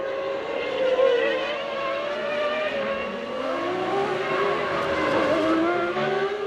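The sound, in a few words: 1998 Formula 1 cars racing, Williams and McLaren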